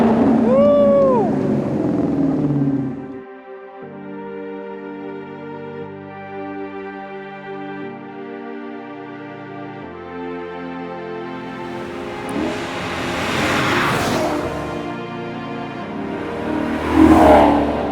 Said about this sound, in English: this nothing less than beautiful Maserati Granturismo in Rosso Trionfale